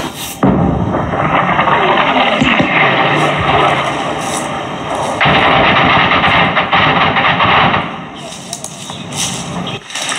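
Artillery fire on the front line in Russia's war with Ukraine in the Zaporizhzhia region: several loud, heavy booms over a continuous rumbling background, with a few sharp impacts spaced seconds apart.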